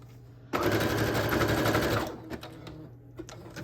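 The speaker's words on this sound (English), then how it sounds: "I'm just gonna sew" Sewing machine stitching folded book-page pockets for a junk journal bouquet, a fast rattling burst of about one and a half seconds, close and loud, then quieter handling sounds.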